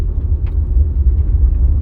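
A 2015 Nissan Rogue with a transmission stuck in limp mode accelerates from inside the cabin, a steady low engine and road rumble without obvious rises.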